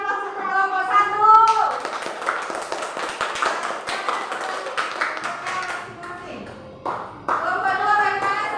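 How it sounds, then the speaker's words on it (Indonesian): Children in a classroom clap for a group of classmates, a dense burst of many small hands lasting several seconds, framed by a voice speaking before and after. "beri aplaus untuk kelompok 1."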